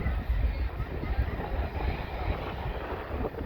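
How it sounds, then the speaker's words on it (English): An airliner taking off from Birmingham Airport, heard from nearby Sheldon Country Park: a steady, loud, rumbling jet roar that swells and rolls on without a break. "There's literally another plane literally right behind it."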